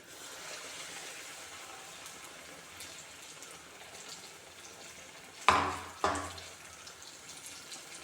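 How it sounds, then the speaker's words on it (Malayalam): Banana fritters (pazham pori) fry in hot oil in a pan with a steady, soft crackling hiss; two sharp, louder splashes stand out near the end, with no talking. "ഞാനൊരു ചട്ടിയിൽ ഓയിൽ ചൂടാവാൻ വെച്ചിരുന്നു. പിന്നെ ഇത് ഓരോന്നും ഇതിൽ മുക്കിയിട്ട് പൊരിക്കാം."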